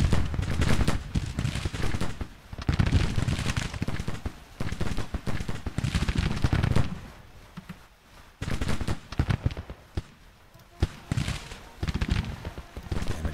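Massed musket volleys from an infantry brigade in Grand Tactician: The Civil War, loud dense crackling gunfire in repeated bursts with brief lulls, a continuous battle din.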